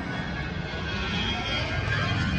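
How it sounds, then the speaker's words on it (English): Aircraft fly overhead with a steady, broad engine drone that slowly builds in loudness over a constant outdoor background. "Sorry, we got planes flying over here."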